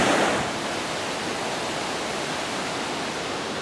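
A rushing mountain river on a hike up Owl Head Mountain, a loud, steady roar of churning water close by with no talking.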